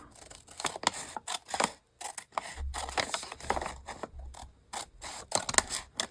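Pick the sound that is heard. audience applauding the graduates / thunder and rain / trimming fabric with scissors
trimming fabric with scissors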